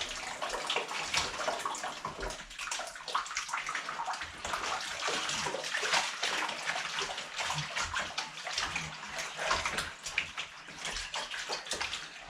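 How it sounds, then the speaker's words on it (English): A mousepad is scrubbed under running water, with continuous close splashing and rubbing swishes of steady loudness through the whole stretch. "All you got to do is just scrub it"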